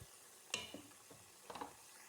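Quiet sizzling of food frying in a pan for jollof rice, with a few soft scrapes and clinks of stirring, faint and close.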